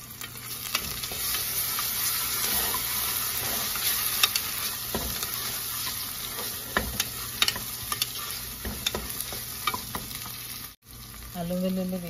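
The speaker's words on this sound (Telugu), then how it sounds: "అల్లం వెల్లుల్లి వేగుతాయండి" Ginger garlic paste fries in a pan for a one-pot millet vegetable biryani, a steady close sizzle broken by repeated scraping stir strokes and clicks of the spoon, with a brief pause near the end.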